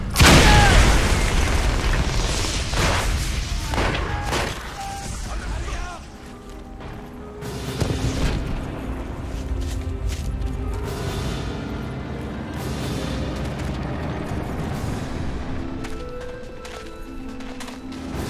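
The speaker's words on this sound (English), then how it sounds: "Another tank! Take it down! Fire the Panzerschreck!" A Panzerschreck rocket fired at a tank in Call of Duty: World at War, with loud booming explosions, crashes and clattering debris amid battle noise and shouted voices.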